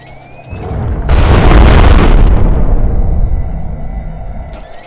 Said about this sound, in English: Yep. Flashbangs.